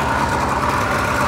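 A red classic car's engine runs smoothly, giving a close, steady, dense mechanical rumble with a fine, even pulsing throughout.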